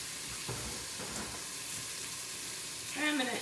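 Spicy chorizo sautéing on the saute setting of an Instant Pot, giving a steady close sizzle with a few stirring scrapes and a louder clatter near the end.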